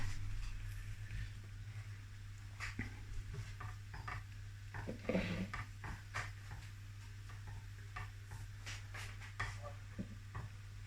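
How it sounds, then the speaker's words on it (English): Cream and mustard sauce being stirred in a pan, a quiet, steady background hum with a spoon scraping and tapping in short irregular strokes throughout, plus a brief louder clatter midway. "I'm just going to stir that now and give it a stir"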